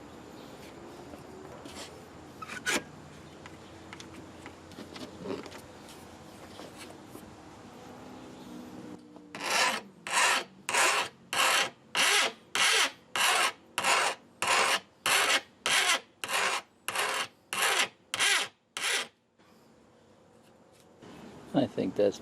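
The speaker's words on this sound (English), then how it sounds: "Sharpen it up just a little bit." A Fiskars extendable pole saw blade is sharpened by hand with a file: about fourteen steady, evenly spaced rasping strokes, close and clear, follow a stretch of talk and handling noise.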